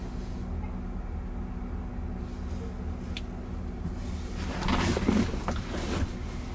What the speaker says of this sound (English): Light rail train.